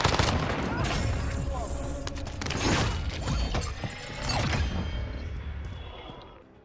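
Rapid gunfire and mechanical weapon clatter in Call of Duty Warzone Pacific, loud and dense with overlapping bursts and metallic clicks, with a voice briefly talking underneath.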